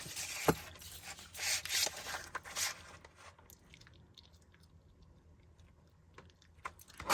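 A small paper guillotine cuts strips of white cardstock, with a few sharp crisp snips and scuffs of paper being handled, loudest early on, then quieter rustling and a final click, no talk.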